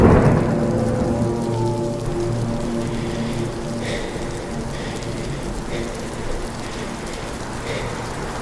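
Steady, dense rain pours down during a drive, with low rolling thunder rumbling underneath. The sound is loud and close, continuous for about eight seconds, and no one speaks.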